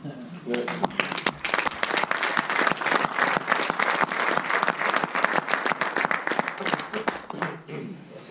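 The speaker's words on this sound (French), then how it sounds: "vous allez l'applaudir" Conference audience applauding Jean-Michel Lefebvre as he stands, a loud continuous burst of many hands clapping with sharp individual claps standing out, lasting the full stretch with voices mixed in.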